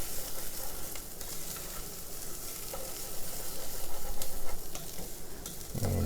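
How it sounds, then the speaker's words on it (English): Rice toasting in a hot pan while it is stirred: steady close sizzling with soft scraping and stirring movements throughout, no voices. "So we're kind of toasting the rice"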